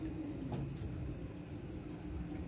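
KRL Commuter Line trains pass each other far below, heard from a high hotel floor in Depok as a faint, steady rumbling rail noise with a soft continuous hum and no talk.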